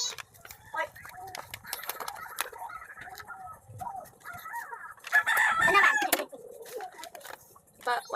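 Chickens cluck and a rooster crows in the middle of the clip, loud and nearby, while people chat in the background.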